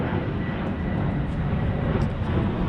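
Steady broadband rumble of an airplane passing overhead outdoors, a continuous even roar with no talk over it.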